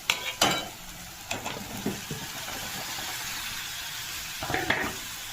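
Jackfruit and fried potatoes sautéed in tomato paste in a pan, giving a steady low sizzle broken by a few sharp stirring scrapes near the start and end.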